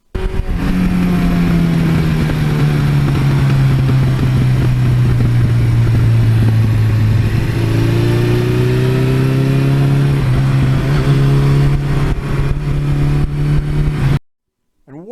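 A Suzuki GS1100E motorcycle engine revs loudly and steadily close by, its pitch sagging slightly then climbing again as the throttle opens, running nearly fourteen seconds before cutting off abruptly.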